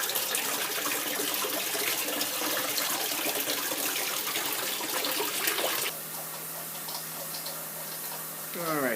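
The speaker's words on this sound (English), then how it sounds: "filling back up the tank." Water pours steadily into an aquarium tank as it is refilled, a loud continuous rush for several seconds before dropping to a quieter, lower flow with a faint hum.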